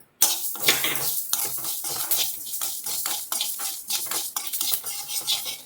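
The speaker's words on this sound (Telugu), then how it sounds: "ఇవి మెంతులు వేయించుకుందాం ముందుగా" Fenugreek seeds roasting dry in a metal pan for tomato pickle, a spoon scraping and stirring in quick repeated strokes with a soft sizzle underneath, close and fairly loud throughout.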